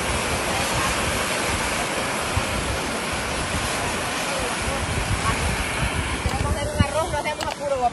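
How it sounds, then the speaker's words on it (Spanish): Superheated water and steam venting from the ground in a street in El Salvador, a steady broadband rushing roar like a waterfall under a voice speaking nearby. "Y toda esa agua es agua súper, súper caliente."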